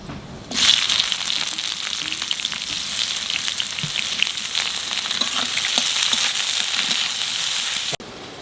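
Cumin, bay leaf and chopped onion drop into hot oil with a sudden burst, then a loud, dense, steady sizzle and crackle continues close by before cutting off abruptly.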